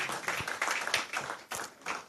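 An audience at a business innovation series event applauds a keynote speaker, with a steady wash of clapping and a few sharper hand claps standing out, fairly close and unbroken across the moment.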